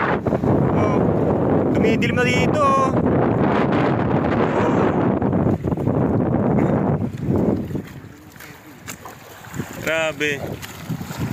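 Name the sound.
strong wind at sea on a fishing boat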